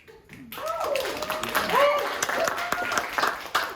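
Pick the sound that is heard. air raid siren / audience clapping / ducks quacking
audience clapping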